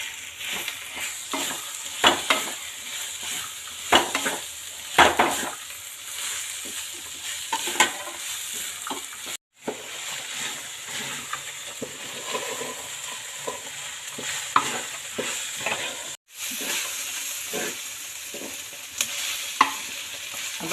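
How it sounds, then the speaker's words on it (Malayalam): Bird's eye chillies sauté in a frying pan with a constant sizzle and frequent close scraping stirs, continuing for about twenty seconds with two brief cuts and no talk. "അപ്പോൾ നമ്മൾ മുളകൊക്കെ ഇങ്ങനെ വഴണ്ടി വരുന്നുണ്ട്."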